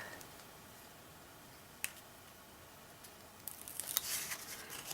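Backing is peeled from a sticky adhesive strip while making a bendi card: faint, quiet crackling that starts with a single tick and builds into a brief burst of crinkly tearing near the end.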